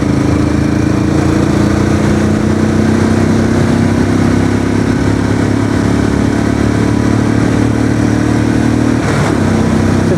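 Royal Enfield Classic 350 BS6 motorcycle at high speed in upper gears, a loud continuous engine drone with rising pitch and heavy wind roar, a brief dip near the end as a gear shifts.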